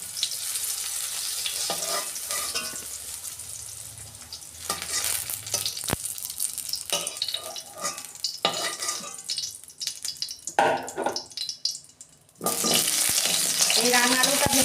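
Boiled potatoes fry in a pan after aubergine, with a busy sizzle and repeated spatula stirring and scraping against the metal, loud and close, dropping briefly quieter before the frying surges back at the end.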